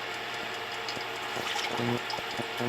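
Distilled water pours into a pot for cooking red beans and rice, making a steady splashing, running-water sound with small gurgles, close and continuous for a few seconds without talk.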